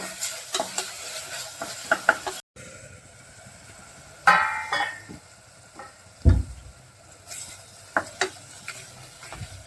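Onion and tomatoes frying in a pan as they are stirred, with intermittent scraping and clacking of a spoon over a soft sizzle, several louder knocks, and faint traffic horns far in the background.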